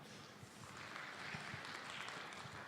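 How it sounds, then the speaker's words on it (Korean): An audience at a Korean government environmental R&D briefing session claps, giving a faint, steady patter of many hands with a soft, continuous texture and no talking. "박수로 부탁드리겠습니다."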